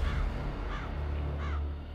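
Crows caw three times at spaced intervals over an old battlefield, each harsh call standing out clearly above a low, steady rumble.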